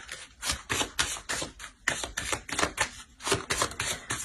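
Tarot cards are drawn and laid down one after another, crisp papery flicks and light taps in a quick, irregular rhythm, close and fairly quiet.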